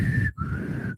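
A person whistles two sustained high notes in a short phrase, imitating Negan's ominous whistle from The Walking Dead, close and fairly loud with a brief gap between notes.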